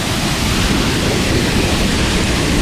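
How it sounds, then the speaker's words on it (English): Rabacca Waterfall in St. Vincent and the Grenadines pours with a loud, steady, broadband roar of rushing water that fills the whole moment without a break. "Whoa! Waterfall time."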